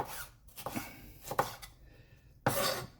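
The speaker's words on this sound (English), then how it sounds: "chop it up as you like it" A knife chops through food on a cutting board in a few distinct, close, sharp strikes separated by short pauses.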